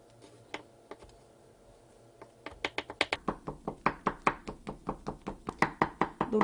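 Knife pressing down through a thin egg yolk crepe on a cutting board, making a rapid, steady run of crisp taps that starts sparse and quickens into an even rhythm, close and clear with no talk.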